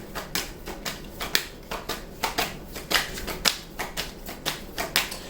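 Tarot cards are handled and drawn from a deck in a steady run of soft, close flicks and taps, about two or three per second, quiet and with no talking.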